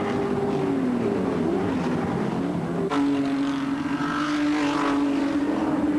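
Touring cars racing up the mountain at Bathurst in the 1986 Bathurst 1000, engines roaring loudly with rising and falling pitch as cars climb and pass close by.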